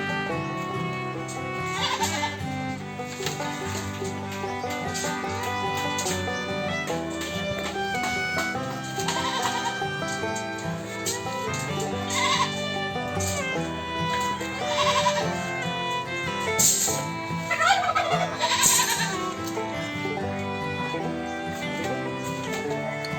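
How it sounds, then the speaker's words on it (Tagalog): Goats bleat repeatedly at a backyard goat house while feeding, over a steady background of music, their calls rising in several short bursts. "Ito, sarap ng kain ng kambing."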